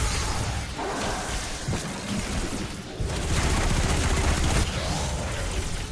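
Grenade explosions in Destiny 2 gameplay: dense, noisy blasts and crackling bursts roll one into another with no pause, loud and chaotic throughout.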